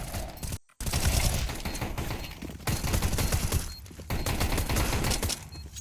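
Rapid bursts of automatic gunfire during a competitive FACEIT qualifier match, dense and continuous with a short silent gap early on and brief lulls between volleys, loud and up close.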